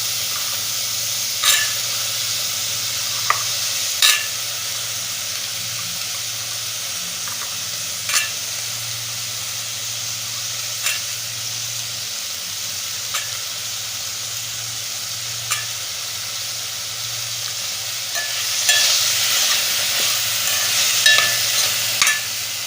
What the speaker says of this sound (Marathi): थोडंसं परतून घ्यायचं.